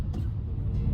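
Brief wash of highway traffic, a dense low rumble of cars and engines rolling past, steady and fairly close.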